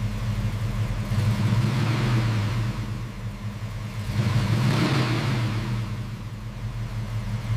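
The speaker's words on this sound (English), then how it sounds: "This is the legendary 426 Hemi." A Dodge 426 Hemi V8 from a 1969 Charger runs steadily with a deep rumbling idle, swelling twice in gentle revs before settling, heard alone without voices.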